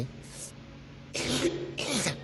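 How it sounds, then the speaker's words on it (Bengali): Two or three harsh, breathy coughs close to the microphone, each a short burst, with a quieter throat-clearing sound before them. "কিছু মনে করো না, কাশি চলে আসলো।"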